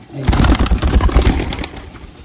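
A male Madrasi pigeon coos loudly and close by in a short run of throaty, pulsing calls that fade toward the end.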